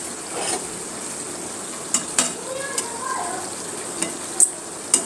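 Loitta fish sizzles steadily in a frying pan while a utensil stirs it, a constant frying hiss broken by several sharp metallic scrapes and clinks against the pan.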